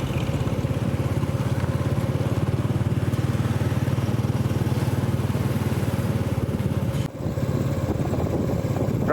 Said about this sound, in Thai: รถราเยอะครับ